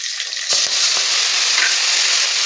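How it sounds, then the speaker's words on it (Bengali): Cumin seeds and a few green chilies fry in mustard oil, giving a steady, close, bright sizzle with brief stirring knocks. "এখন আমরা কিছুক্ষণ হালকা হালকা ভাজা করে নেব।"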